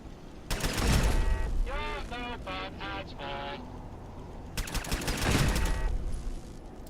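Turrets let off rapid bursts of gunfire in the Fallout: London video game. A volley opens the clip and another follows near the end, with loud in-game ringing tones in between.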